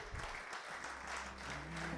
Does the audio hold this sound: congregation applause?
yes